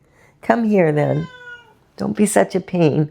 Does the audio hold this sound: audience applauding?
no